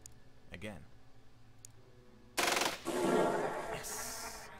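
Gunfire in the tactical video game Xenonauts, a loud burst of rapid automatic shots that breaks in midway after quieter clicks and a brief voice.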